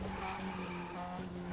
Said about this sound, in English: Can you hear this? The car?